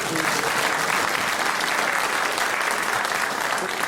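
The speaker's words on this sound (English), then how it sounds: "A round of applause for Peter Jones for his culinary knowledge." Sustained, even applause from a sizeable radio panel-show studio audience, loud and continuous throughout with no pauses.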